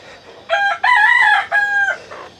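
A rooster of the local desi chicken breed, kept on a caged poultry farm, crows loud and close in one long drawn-out call, broken into three sustained phrases with no voices.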